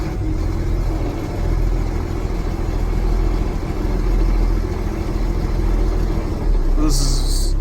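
A truck loaded with harvested potatoes drives on during a farm harvest, its engine a steady low drone with road rumble, continuous and close from inside the cab.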